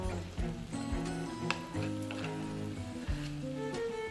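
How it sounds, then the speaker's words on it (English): Chopped onions sizzle softly in a hot frying pan as they go in for a fried potato hash, a faint steady hiss under louder tonal background music. "Go ahead and drop these onions in there."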